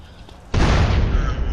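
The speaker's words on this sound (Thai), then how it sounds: "ระเบิดแล้วนะ" A tank blows up in a modded GTA San Andreas game, a sudden loud boom that bursts in after a quiet moment and rolls on as a sustained, rumbling roar.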